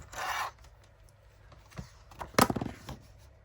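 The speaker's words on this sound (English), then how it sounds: "Put the 6 inch along the top and score at 1/2 inch." A paper sheet is scored with a tool along a half-inch line for a junk journal, with a short scratchy stroke at the start and another brief scraping burst later, close and alone in a quiet room.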